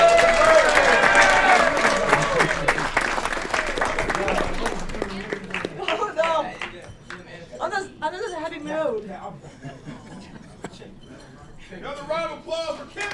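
Audience applause at a city council meeting, loud and dense for the first few seconds, then thinning and fading under scattered chatter and light laughter from the room.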